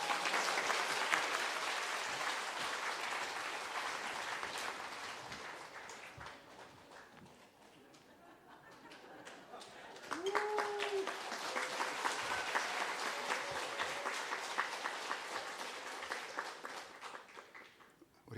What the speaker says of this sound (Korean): 존경과 감사의 마음을 담아 박수로 환영해 주세요